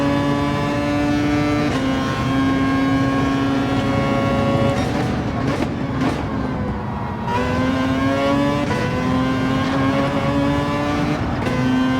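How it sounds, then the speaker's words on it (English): A race car engine in Gran Turismo 7 drones loud and steady at high revs, its pitch dropping sharply around a fumbled gear change midway before climbing again, with another car's engine audible nearby. "Oof, I missed my gear shift."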